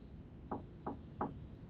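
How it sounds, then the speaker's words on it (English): Three gentle, evenly spaced knocks on a door in a narrative video game, soft and close over a quiet background. "A gentle knock sounds at the door."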